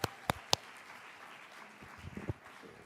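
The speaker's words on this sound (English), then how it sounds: "One more round of applause for Master Chum Nyuk." An audience at a heritage month closing ceremony applauds after a performance, with a few sharp, separate claps up front followed by thinner, scattered clapping.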